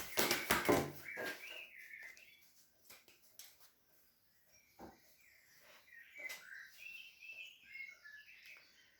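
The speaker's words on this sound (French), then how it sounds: "On entend le coucou." Outdoors, birds chirp and call over and over, fairly close, with a dense burst at the start and more scattered calls after it. A cuckoo's call cannot be picked out clearly.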